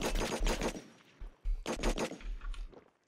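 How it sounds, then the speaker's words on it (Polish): Gunfire in the survival shooter Last Man Standing: bursts of rapid close shots in two clusters separated by a short pause, loud and sharp with no talking. "A on tam z domku do mnie strzela"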